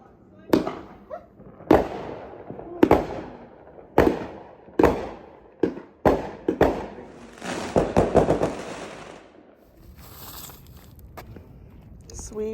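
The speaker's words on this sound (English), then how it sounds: "I don't like fireworks" Fireworks bursting outdoors on a summer night, a rapid series of sharp, loud bangs at irregular intervals with a dense crackling cluster near the end, then fading into quieter rumble.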